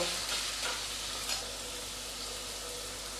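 Grated coconut frying in a pan for a Bengali kochu shak dish, a quiet even sizzle with a few light stirring scrapes early on, then a low steady hiss; nobody speaks.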